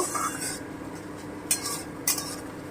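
Moong dal and pointed gourd dish stirred in a pan with tomato paste just added, a spoon scraping softly with two sharper metallic clinks, close and fairly quiet.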